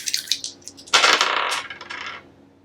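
Several small dice clatter and tumble across a hard surface in quick rattling bursts, a sharper cluster of hits near the middle, then settle to a stop; close and fairly loud, no talking.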